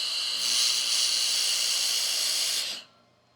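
Laser welder working on 304 stainless steel, giving a steady, bright hiss that holds for about two seconds before cutting off abruptly into quiet.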